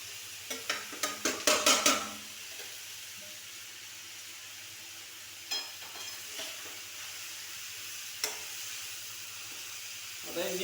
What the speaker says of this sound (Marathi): आता हे नीट ढवळून घ्यायचं.